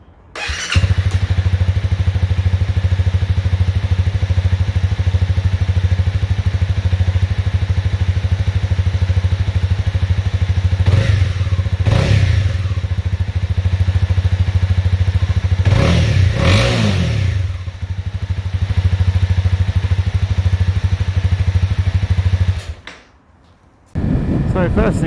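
A 2019 Honda CB300R single-cylinder motorcycle engine starts up and runs with a loud, thumping idle and a few revs and clanks, then cuts off near the end.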